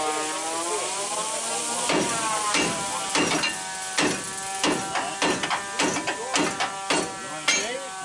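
A big hammer strikes a metal Willys truck part during a rat rod build, about a dozen sharp, ringing blows at an uneven pace, close and loud over a faint background hum.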